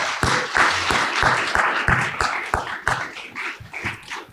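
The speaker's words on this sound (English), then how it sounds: "Please give a round of applause for Jazz." A crowd applauds at a poetry recitation event with a dense clatter of clapping, some sharper individual claps standing out, fading slightly toward the end.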